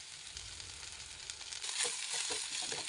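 Brinjal mezhukkupuratti fries in a pan with turmeric, chilli and coriander powder, giving a steady hiss of sizzling oil that swells slightly midway, with soft stirring scrapes and no talking.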